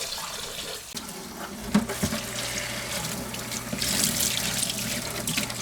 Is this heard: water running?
yes